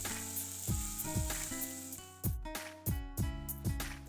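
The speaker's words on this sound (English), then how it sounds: "Add in the chili and garlic and cook for about a minute until fragrant." Chili and garlic sizzle steadily in a hot pan for vegan nachos, with a loud continuous fry punctuated by several sharp clattering stirs of a utensil against the pan.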